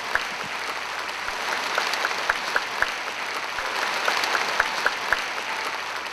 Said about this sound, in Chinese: 请给王老师最大的掌声